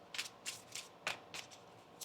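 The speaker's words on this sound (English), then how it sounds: "One more shuffle." Tarot cards shuffled by hand during a reading, giving about eight quick papery riffling bursts in an uneven rhythm, close and fairly quiet, with no talking.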